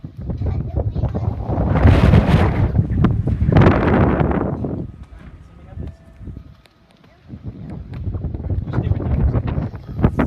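Heavy gusts buffet the microphone in loud low rumbling bursts, with a calmer gap midway before the blustering returns.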